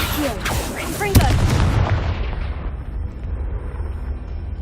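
A Confringo explosive spell cast in the Hogwarts Legacy video game, a sharp blasting boom followed by a rumbling, crackling tail of fire, with several spell-casting whooshes and game effects around it.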